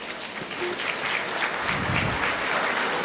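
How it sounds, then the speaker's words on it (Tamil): Audience at a seminar for astrology students claps in a steady, moderately loud burst from one side of the hall, continuing without talk. "இந்த சைடில் இருந்து தான் கைத்தட்டலே வருது."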